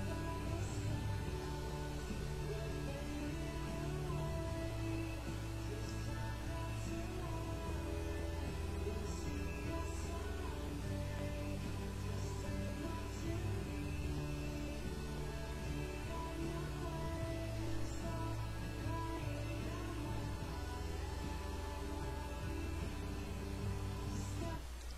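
The outro of a song is played on guitar, with sustained chords changing every few seconds over a low steady bass, held at an even, moderate level throughout with no voice.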